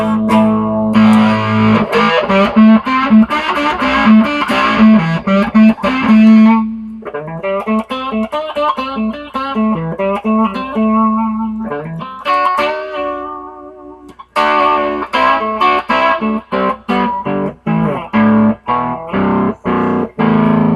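An electric guitar played through a germanium Fuzz Face pedal, run full blast into a Princeton amp, gives loud, heavily distorted chords and riffs with short pauses and sustained buzzy notes.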